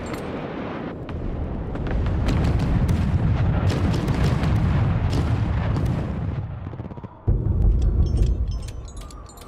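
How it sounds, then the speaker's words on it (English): Missiles launch and get shot down in the HIGHFLEET strategy game, heard as a dense barrage of deep rumbling booms and crackling bursts that stays loud for the whole stretch, broken by a brief dip and then a heavy thump near the end. "So right now we have to shoot missiles out of the sky"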